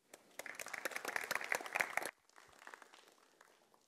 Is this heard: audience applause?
yes